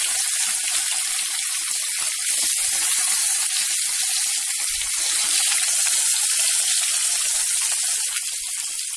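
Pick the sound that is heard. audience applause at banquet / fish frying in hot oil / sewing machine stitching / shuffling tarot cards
fish frying in hot oil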